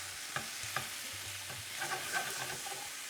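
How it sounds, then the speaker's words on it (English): Potato pieces fry in a pan for aloo chaat, a soft steady sizzle with occasional stirring knocks and scrapes, fairly quiet and close. "Just going to let the other bits fry up for a few minutes as well"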